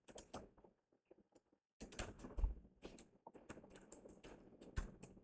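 Code is typed on a computer keyboard in quick, irregular clusters of soft clicks close by, with a short pause near the start before the tapping resumes, quiet and without voices.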